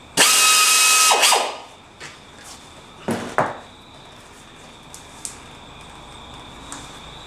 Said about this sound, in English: I'm going to go probably use a 2 mil drill bit, just to open them up.